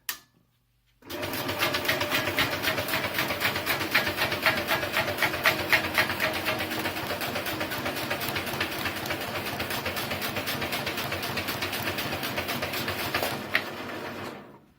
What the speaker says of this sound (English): So I'll turn it on, you'll see it run your A5 cards to crease in the middle to fold to A6.